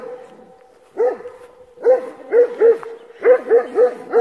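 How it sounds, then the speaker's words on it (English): A Doberman barks repeatedly up close, short sharp yips coming in quick bursts of two and three, growing more frequent. "But he's also barking at something now."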